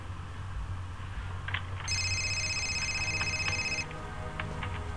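A phone rings in the video game Fahrenheit, a bright electronic trill lasting a couple of seconds over a low ambient game hum, with no talk.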